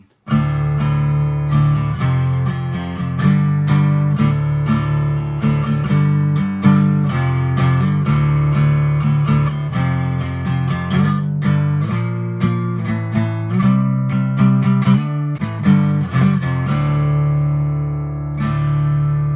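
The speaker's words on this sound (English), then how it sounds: "that sounds like pretty much any rock or metal riff" A loud, driven electric guitar riff in drop D tuning chugs with low palm-muted notes and ringing chords, played alone in a steady rock rhythm.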